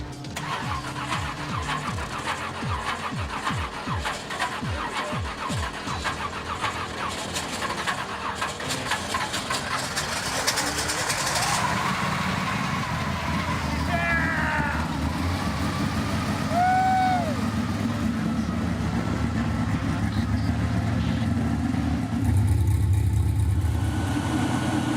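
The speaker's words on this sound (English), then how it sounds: "We're gonna clean these out and put them on the motor and fire it" A long-dormant barn-find Pontiac Firebird V8 engine cranks over rhythmically, catches and fires, then settles into a loud, rough running roar with revving, close up in a garage-like space with a brief voice near the end.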